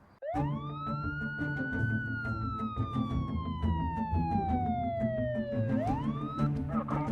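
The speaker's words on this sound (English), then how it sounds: "2 police cars arrived at the park, their sirens shattering the afternoon calm" A police siren wails loudly, one long falling sweep then a quick rise, over steady traffic rumble.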